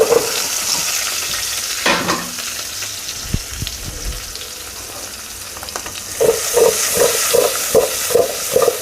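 Garlic cloves, green chillies and chopped onion fry in a pan for a bottle gourd stew: a constant close sizzle with spoon scrapes, then a run of rhythmic clattering stirs near the end.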